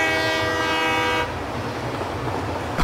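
Train from the video game Satisfactory rolling through parked vehicles: a steady horn-like tonal blast over rumbling rail noise for about a second, then continuous loud rolling wheel and carriage noise with no voices.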